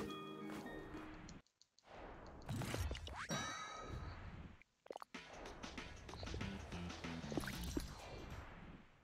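A bell rings in the platform video game Grapple Dog, with clanging, ringing metallic dings among other game sound effects and music, clear and fairly loud.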